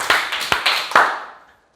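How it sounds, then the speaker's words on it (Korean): Congregation at a Wednesday church worship service clapping hands in unison three times, three sharp, close claps spaced evenly, each trailing into room echo that fades to silence. "박수 3번 시작"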